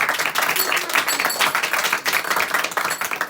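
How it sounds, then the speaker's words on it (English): An audience at a spiritual talk breaks into a steady round of applause, dense hand-clapping filling the room at even loudness from start to finish with no voices over it. "So we will give a round of applause for all of them."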